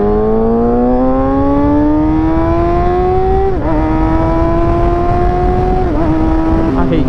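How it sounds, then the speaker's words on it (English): Motorcycle engine drones steadily from the rider's position in road traffic, rising in pitch through the gears with brief dips at shifts, loud and close, with wind noise throughout. "there's so much traffic coming the other way too"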